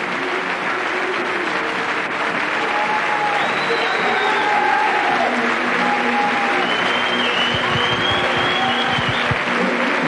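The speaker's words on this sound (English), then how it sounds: "both sides will get a tremendous rapture of applause from the big crowd here at Bury this evening" Sustained applause from a large crowd at an evening rugby league match between Ireland and the Cook Islands at Bury, a dense steady roar of clapping filling the whole stretch, with faint crowd noise and whistles mixed in.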